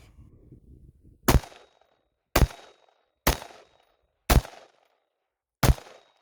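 Five sharp, loud gunshots from a Desert Tech MDRX forward-ejecting rifle are fired one at a time about a second apart, each with a brief echoing tail, separated by silence.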